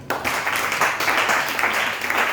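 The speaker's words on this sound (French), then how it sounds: "On acclame le Seigneur." A church congregation breaks into loud, sustained applause that starts abruptly and continues as dense clapping from a large crowd for about two seconds.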